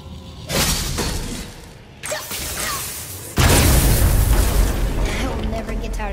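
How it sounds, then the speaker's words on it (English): Objects shatter in God of War, with a crash near the start, another around the middle and a louder, sustained smash of breaking debris late, all heavy and close. "I will never get tired of shattering things with this."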